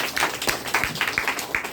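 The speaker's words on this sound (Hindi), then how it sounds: "ये चाहपत्ती एक बार जोरदार ताली लगावल जाए।" A crowd at a physical meeting in Bhagwanpur claps loudly in a sustained round of applause, with many overlapping hand claps in an uneven rhythm that fills the whole stretch.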